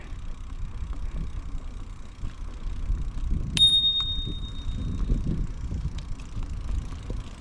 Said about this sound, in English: I could hear the bell, but he didn't.